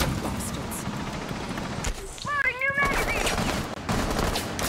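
Automatic gunfire from Rainbow Six Siege crackles in quick bursts, with a brief pause and a tonal in-game sound midway, then more shots close behind.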